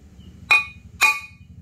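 Two sharp metallic clinks about half a second apart as a hammer strikes an aluminium drift to knock out a shaft during a motorcycle engine restoration, with a faint low hum underneath.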